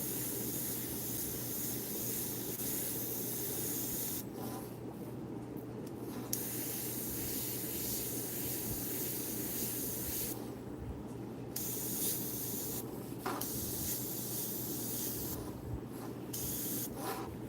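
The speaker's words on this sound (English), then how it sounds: "Just spray this color lighter too on the edge." An Iwata CM-SB airbrush sprays Createx Illustration paint onto Claybord in a steady, close hiss that keeps on through long bursts and cuts out several times.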